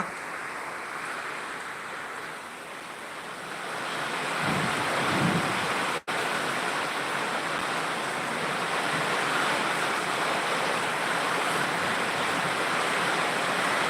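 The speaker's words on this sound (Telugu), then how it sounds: "చూడండి వర్షం అయితే వస్తుంది" Heavy rain falling outdoors in Anantapur district with some wind, a dense, steady wash of noise that swells slightly partway through, with one brief sharp click; no voices.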